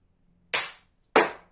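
Two sharp air pistol shots from a Blow H01 4.5mm (4 joule) pistol fired at a range, sounding as crisp, close, loud cracks about half a second apart with short decaying tails.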